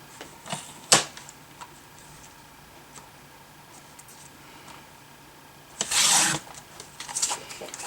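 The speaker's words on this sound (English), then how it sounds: "So I'll cut it into 4 1/4." Cardstock paper being cut down to size for a handmade card, with a sharp snip near the start and a longer rasping slice later, close and fairly quiet with light handling ticks between.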